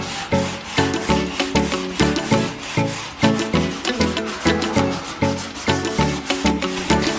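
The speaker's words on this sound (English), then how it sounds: "So here I'm just going over it lightly and sanding it off." Blue chalk paint being hand sanded off a wooden tabletop, rhythmic back-and-forth rasping strokes, close and loud, repeating steadily about twice a second.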